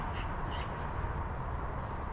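Near a lake at sunset, a crow gives two short, faint caws early on, then the rest is a steady outdoor hush with no other calls.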